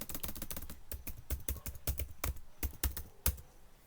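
Fingers typing a terminal command on a computer keyboard under Ubuntu, a close, steady run of crisp key taps with a few louder strikes, no voices.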